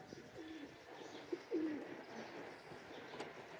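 Teddy pigeon giving a couple of soft low coos over faint background hiss, brief and fairly quiet.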